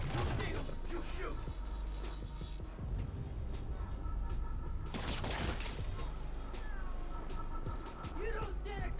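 Continuous dense gunfire and crashing impacts from a battle in Marvel's Spider-Man: Miles Morales, loud and busy throughout with shattering bursts mixed in, under shouted voices from enemies.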